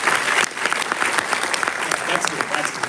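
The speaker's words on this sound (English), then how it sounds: "So, can we have a round of applause for Mr. Nidesh here?" Audience applause at a Google Cloud Community Day tech event in Nagpur, a dense crowd clapping steadily throughout at close, loud level, with some voices mixed in.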